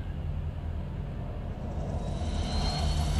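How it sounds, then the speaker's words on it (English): A helicopter in the stealth video game Mark of the Ninja flies off, a steady droning engine rumble that holds level and swells slightly toward the end, with no voices. "fly my helicopter away"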